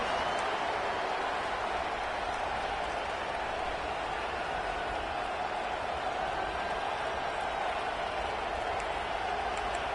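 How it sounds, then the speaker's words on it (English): Dense stadium crowd roaring in the College Football 25 video game, a loud, continuous broadband wash of cheering and noise that holds level for the whole span with no pauses. "This crowd, full throat, splitting the eardrums and letting them know it's going to be a long day."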